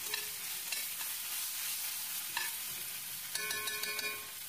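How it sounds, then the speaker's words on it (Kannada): Onions with ginger-garlic paste fry in a pan for an egg curry, a soft steady sizzle broken by a few scraping stirs of a spoon, close and alone without talk. "ಇದಕ್ಕೀಗ 1 ಟೇಬಲ್ ಸ್ಪೂನಷ್ಟು ಶುಂಠಿ ಮತ್ತು ಬೆಳ್ಳುಳ್ಳಿ ಪೇಸ್ಟನ್ನು ಸೇರಿಸ್ಕೊಂಡು ಚೆನ್ನಾಗಿ ಹಸಿ ಸ್ಮೆಲ್ಲೆಲ್ಲ ಕಡಿಮೆ ಆಗೋವರೆಗೂ ಫ್ರೈ ಮಾಡ್ಕೋಣ."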